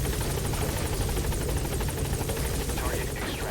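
A helicopter in the video game Metal Gear Solid V hovers nearby with a loud, steady rotor thrum and whine, constant throughout.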